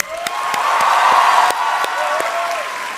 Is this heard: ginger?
no